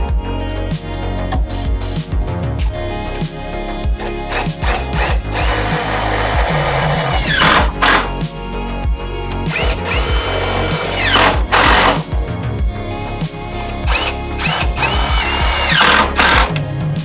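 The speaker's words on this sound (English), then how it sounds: "all I gotta do is line up the corner and I can go ahead and start screwing these on" A power drill drives screws through trim into fascia boards during a metal roof installation, with loud whirring bursts that rise and cut off repeatedly, plus clattering between runs.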